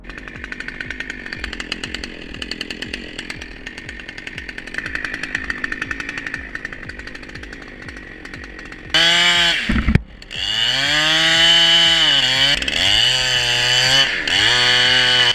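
Chainsaw cutting burnt tree trunks, first a steady idling chug, then the engine revs hard into a loud, close whine that dips in pitch as the chain bites into the wood.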